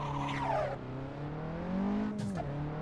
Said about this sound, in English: I know there's a car still loud.